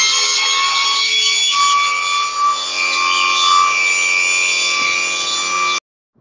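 An AmeriDeck truck deck is raised with its two-button switch, giving a steady, loud, whining motor hum with a bright tonal edge. It runs evenly for about six seconds, then cuts off abruptly into silence.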